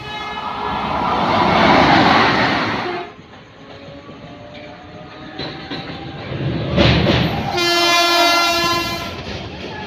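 A train passes through Kamarkundu, a two-level railway station in Hooghly district, West Bengal. A loud, close rumble swells and fades, a second rumble builds, and a sustained horn blast sounds near the end.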